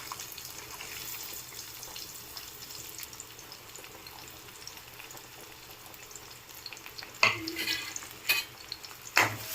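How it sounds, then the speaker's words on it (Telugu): Onions fry in a kadai for a meal maker curry, a soft steady sizzle running throughout, with a few louder scraping stirs near the end. "ఇప్పుడు అదే బాండీలోకి ఆనియన్స్ వేపుకుందాము"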